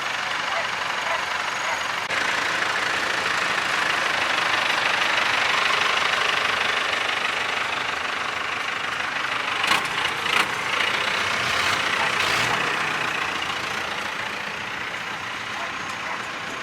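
A V450 vintage lorry engine runs roughly at a steam rally, a steady uneven rumble with knocking. Background voices sound briefly near the middle.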